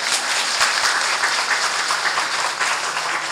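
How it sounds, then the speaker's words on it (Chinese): An audience of residents applauds councillors at a community ceremony in Nuannuan District, Keelung, a dense, steady round of clapping from many hands at moderate distance. "也拜托大家给我们在座的议员一个掌声好不好？"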